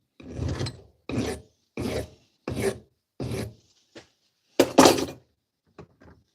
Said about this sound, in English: Now, when you use the bigger file, similar when you use a belt sander